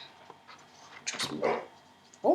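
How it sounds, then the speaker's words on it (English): A household dog barks, probably at a cat outside the window: a few short, muffled barks from a little distance, one burst midway and another at the very end, with a quiet voice briefly heard. "Dog barking at probably a cat outside the window."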